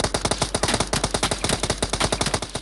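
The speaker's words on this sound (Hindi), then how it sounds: "मुझे बड़ी फायरिंग दे रहे हैं" Rapid, relentless automatic gunfire in a battle royale video game, dense sharp shots firing in quick succession for the whole stretch, loud and close with no pause.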